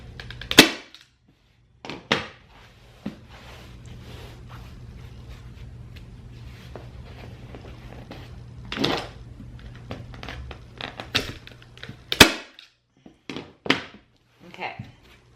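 A staple gun fires into fabric stretched over a kitchen chair seat, several sharp isolated snaps spaced seconds apart, with quieter handling noise and a person talking between them.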